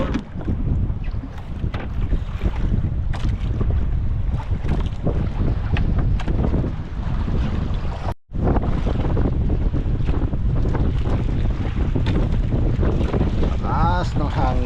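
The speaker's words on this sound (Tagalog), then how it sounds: "Lakas ng hangin." Strong wind roars and buffets the microphone on a boat at sea near an island, with waves and water noise mixed in, loud and continuous apart from one brief cut, with voices in the background.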